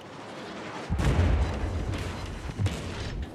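Heavy naval guns fire in a World of Warships battle, a deep booming blast near the one-second mark followed by rumbling and a second thump later, set against a steady low background rumble.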